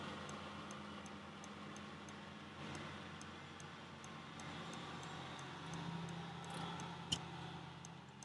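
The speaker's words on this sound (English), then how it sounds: "you just heard another truck going by" A truck rolls past outside, heard from inside another truck as a low, steady engine rumble that swells slightly and fades, fairly faint with no talking.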